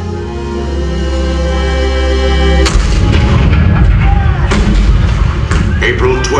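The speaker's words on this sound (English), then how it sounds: "Fort Sumter. The cannons spoke for war." Booming cannon fire as a stage-show sound effect marking the start of war at Fort Sumter breaks in suddenly midway, following a sustained musical passage, with heavy thuds and rumbling continuing afterward.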